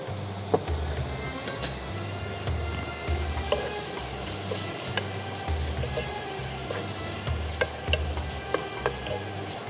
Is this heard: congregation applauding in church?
no